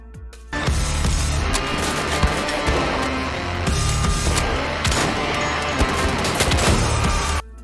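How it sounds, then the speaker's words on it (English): Double-barrel shotgun blasts from the video game Wolfenstein: The Old Blood, loud and dense, firing in rapid repeated bursts against a busy game soundscape for several seconds. "it's a double barrel shotgun, so it has to reload all the time"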